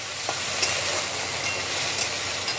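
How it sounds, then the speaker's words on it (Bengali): Potatoes for a banana flower curry fry in hot oil in a pan, giving a steady, close crackling sizzle with faint stirring scrapes and no talk. "এখানে মোচার আলুটা একটু ভেজে নেব"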